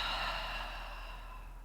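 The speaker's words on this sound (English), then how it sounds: "Deep inhale through the nose, exhale through the mouth." A single deep exhale through the mouth during a yoga session, close and breathy, slowly fading over its length with no speech.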